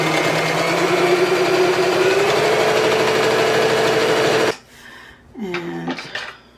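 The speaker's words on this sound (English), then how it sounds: "now I'm just sewing along the other edge." A sewing machine runs steadily and loudly as it stitches along the edge of a tote bag, then cuts off abruptly and is followed by a brief, quieter rustle.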